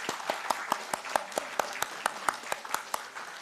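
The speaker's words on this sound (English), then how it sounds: "Round of applause." Sparse round of applause at a HAZMAT compliance and port operations seminar, a small group clapping in distinct, fairly even beats, moderately quiet and close.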